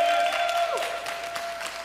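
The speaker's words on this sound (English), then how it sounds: "let's give the Lord one more shout and hand clap" A church congregation at a Wednesday discipleship training clapping and shouting to the Lord, a short, dense burst of applause with a sustained tone running through it.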